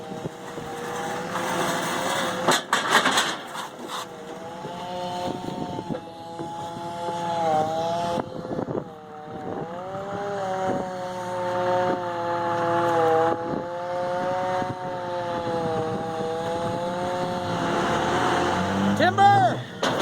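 A mud truck engine idles and revs as the truck rolls back, a steady, near, strained drone with wavering pitch that rises toward the end, under people talking and shouting.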